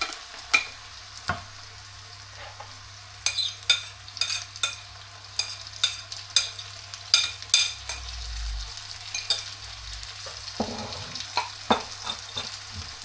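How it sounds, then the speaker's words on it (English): Minced pork sizzles and fries in a pan with cooked garlic and onion, a steady close sizzle with frequent scraping stirs and light utensil clinks against the pan. "We're gonna saute it with the garlic and onion so it's more tasty."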